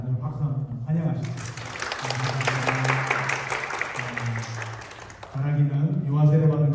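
A church congregation at a Sunday service claps to welcome visiting guests, a pastor and his wife, a warm burst of many hands lasting about four seconds between stretches of someone speaking.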